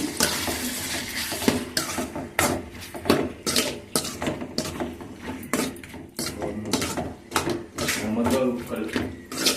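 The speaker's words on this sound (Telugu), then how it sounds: "వేసుకొని మిక్స్ చేసుకోవాలి." A spoon stirs cucumber curry in a pan, scraping and clinking against the metal in irregular knocks over a low sizzle, with a voice talking alongside.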